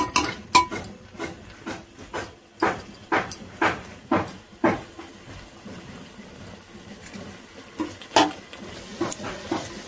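Chicken being stirred and sautéed in a pot during village cooking, heard as repeated clinks and scrapes of a utensil against the pot in uneven bursts, fairly close, with no talk.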